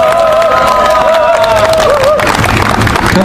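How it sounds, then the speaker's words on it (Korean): Crowd at an outdoor political rally at Daehanmun clapping in encouragement, mixed with cheering and shouts, while a sustained tonal sound wavers over the noise; loud and continuous. "다시 한번 격려의 박수 부탁드립니다"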